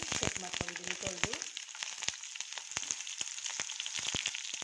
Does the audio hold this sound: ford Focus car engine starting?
no